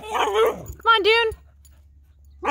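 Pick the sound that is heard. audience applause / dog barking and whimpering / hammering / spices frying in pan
dog barking and whimpering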